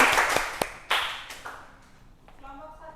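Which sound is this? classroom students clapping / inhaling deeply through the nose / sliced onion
classroom students clapping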